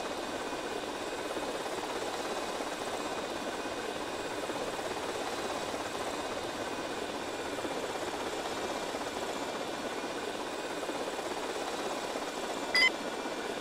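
Helicopter in the GTA Vice City video game, a steady droning rotor and engine hum held at a constant low level throughout, with a brief faint blip near the end.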